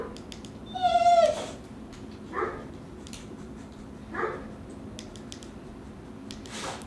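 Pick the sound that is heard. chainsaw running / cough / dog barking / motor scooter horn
dog barking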